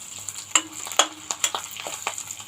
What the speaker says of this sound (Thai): ตอนนี้เราผัดหมูให้หอมหอมก่อน